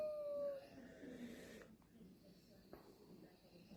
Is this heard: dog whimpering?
yes